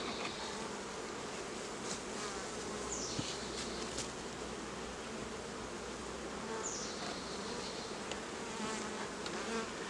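A dense, steady drone of many honey bees buzzing close by at an open hive while supers are added, continuous and fairly loud, with occasional individual insects passing nearer.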